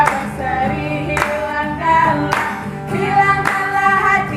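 A congregation claps along to a cheerful church worship song at a GBKP service. Sharp hand claps land roughly every second over singing voices and instrumental accompaniment.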